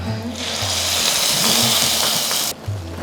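A tempering of spices in hot oil for khara pongal, poured and mixed in: a loud, broad sizzle lasting a couple of seconds that cuts off sharply, with a low hum underneath.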